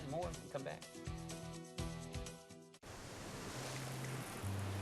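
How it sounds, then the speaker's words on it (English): Ocean waves make a steady, soft broadband wash of surf that takes over after a short stretch of music and voice, then continues evenly to the end. "This is the ocean."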